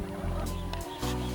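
Chickens clucking close by, a dense chatter of fowl sounds with a low rumble underneath.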